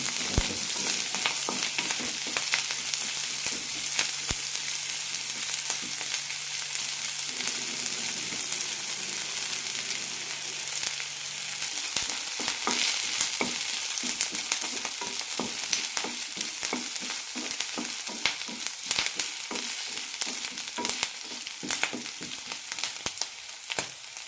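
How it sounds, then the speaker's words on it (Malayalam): Chopped onions and shallots fry with green chillies and curry leaves in a pan, giving a steady close sizzle with frequent spatula scrapes and clicks throughout. "സവാളയും ചെറിയുള്ളൊക്കെ ചെറുതായി ചോക്കണം, അതുവരെ വഴറ്റിയെടുക്കാം."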